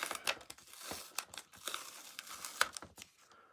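Glued piece being peeled off a Shark CarpetXpert EX150UK vacuum floor head, a close crackling, tearing sound in irregular bursts of crinkling, alone without talk.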